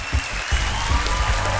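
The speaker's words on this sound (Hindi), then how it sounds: "आइए तालियों के साथ उनका स्वागत करें" Studio audience on a KBC quiz show applauding to welcome contestants, a brief burst of steady, dense clapping at moderate loudness.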